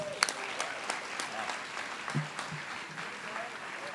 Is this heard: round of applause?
yes